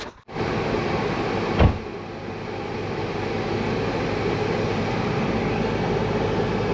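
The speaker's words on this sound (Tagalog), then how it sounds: "Testingin ko ngayon yung aircon kung gagana siya." A car's air conditioner and heater run on test, giving a steady, broadband blowing hum that starts after a short pause, with one brief thump partway through and no talk.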